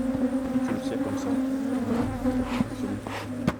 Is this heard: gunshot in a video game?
no